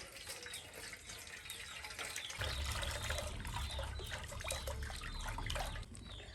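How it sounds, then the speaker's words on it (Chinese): Water runs and trickles from a tap while hair is washed at a sink, a soft continuous splashing that swells slightly partway through, with no talking. "我把這頭洗一下。"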